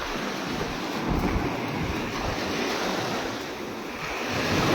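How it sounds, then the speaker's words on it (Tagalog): Large ocean waves roll in and break along a beach at a resort, a continuous loud surf roar with some wind buffeting the microphone and no voices. "Pag ganitong oras, malaki yung alon."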